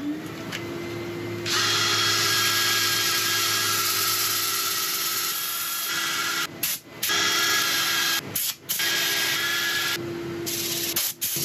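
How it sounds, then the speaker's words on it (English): Abrasive sanding rasps against a wooden bowl spinning on a woodturning lathe. The motor's steady whine runs continuously underneath, with a few brief dips as the sandpaper lifts off the wood. "Right, I shall set up for sanding."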